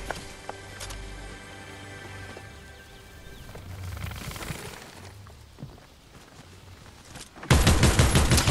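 Rapid automatic gunfire from a heavy-recoil weapon in Fortnite. A dense, loud burst erupts near the end and follows quieter, scattered game noise.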